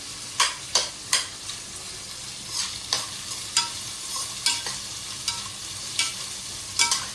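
Sliced onions fry in oil for a chicken gravy, a continuous sizzle broken by a steady rhythm of close, sharp spatula strokes scraping the pan, with no speech.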